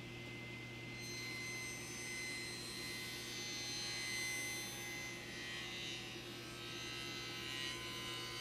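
A 10-inch table saw fitted with a 250 mm blade and a modified riving knife makes a non-through cut, giving a steady, loud, humming motor whine that holds constant throughout with no speech.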